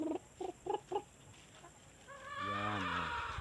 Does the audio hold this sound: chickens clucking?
yes